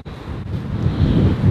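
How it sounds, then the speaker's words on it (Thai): Strong wind on a cold December night in St Petersburg, Russia, buffets the microphone with a loud, continuous low rumble that swells and gusts, with no talk. "โอ้ลมเต็มๆเป็นท่อลมเลยทีนี"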